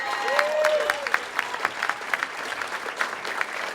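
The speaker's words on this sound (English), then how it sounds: "A round of applause for Rita." An audience at an awards dinner claps steadily, a room full of applause with individual claps audible, and a brief tonal sound at the start.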